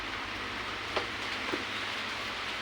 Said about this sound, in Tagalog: Umuulan sa labas. Ang lakas talaga ng ulan.